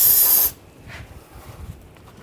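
Brake parts cleaner sprays in a short, loud hissing burst of about half a second around the oil filter area of a 2004-2012 Chevrolet Colorado 3.7L I5, then cuts off to quiet background.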